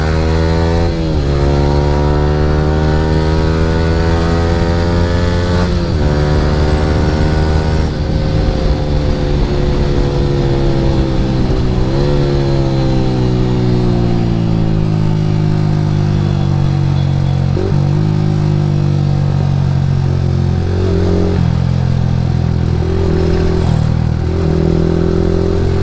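A Yamaha R15 V3 fitted with an Akrapovic R9 exhaust is ridden fast on a morning run. The engine drones loud and unbroken, climbing in pitch through each gear and dipping briefly at every shift.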